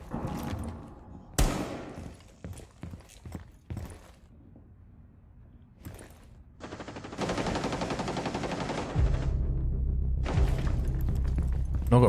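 Gunfire in the Rainbow Six Siege tactical shooter: scattered sharp shots and thuds early on, then a sustained loud burst of automatic fire with a heavy low rumble toward the end.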